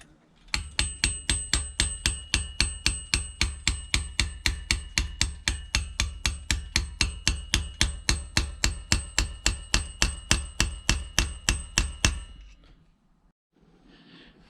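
Hammer tapping a rocker shaft seal into place on a Triumph Bonneville T140 engine, about forty sharp, evenly spaced metallic taps close up for roughly twelve seconds, followed by quiet.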